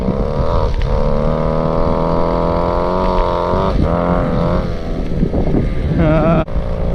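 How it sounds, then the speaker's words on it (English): A long-idle Go-Ped scooter's small two-stroke engine runs steadily at a buzzing idle, with slight throttle changes and a brief dip near the end, loud and close throughout. "That sounds like a live Goped."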